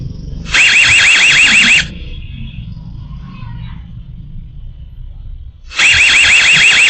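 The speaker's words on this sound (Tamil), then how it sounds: "சைரன் சவுண்ட் வரும்" A loud warbling electronic siren from a security camera alarm blares for just over a second, stops, then sounds again after a few seconds of low background rumble.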